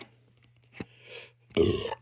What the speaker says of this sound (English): it was improper to burp that way on the camera